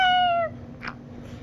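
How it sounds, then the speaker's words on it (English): A pet cat gives a single close, clear meow that fades after half a second into near silence, followed by a faint rustle. "Say meow."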